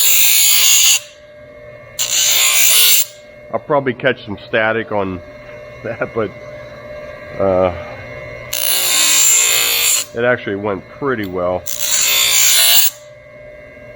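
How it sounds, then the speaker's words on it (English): An angle grinder's grinding wheel cuts through metal in four harsh, loud bursts, each lasting about a second, with someone talking in the pauses between them. "I just went for it with the grinding wheel."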